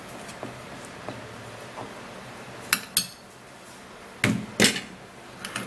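Aloe vera gel is scooped into a bowl with a spoon, a few faint scrapes followed by several sharper clinks and taps of utensil against the bowl, close and quiet with no talk.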